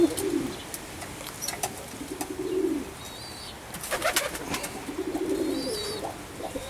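Oriental Roller pigeons in a breeding loft coo in repeated low phrases, close by, while fainter chirps, clicks and shuffling sound around them.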